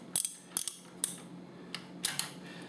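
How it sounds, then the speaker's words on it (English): An Allen key wrench works loose the drain plug on a Harley-Davidson Softail Twin-Cam, giving a handful of sharp metallic clicks and ticks in an uneven rhythm, close and fairly quiet. "So you take your Allen key wrench and loosen"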